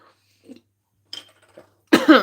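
A few scattered soft sounds lead up to a sudden, loud, harsh burst near the end, like a hacking cough close to the mic.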